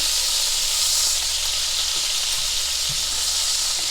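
Pork chops sizzle loudly and continuously in a hot pan, giving a dense, even hiss with no talk over it.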